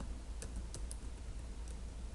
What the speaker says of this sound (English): So I'm going to type in include